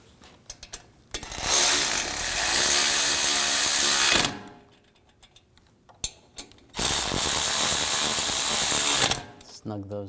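Ratchet clicking rapidly in two long bursts while tightening the front brake caliper pins on a 2006-2009 Audi S4 4.2L V8, close and loud, separated by a short pause with a few isolated clicks.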